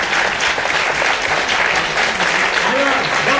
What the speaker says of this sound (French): Ah, c'est fini, vous m'applaudissez